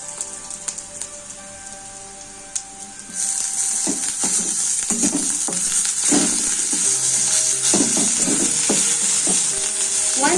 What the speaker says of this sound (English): I'll add the ginger and garlic.